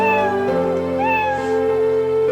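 A cat meow sound effect in a program, triggered repeatedly by clicking on a cat, with overlapping tonal meows whose pitch swoops up and down, loud and continuous with no pause between them.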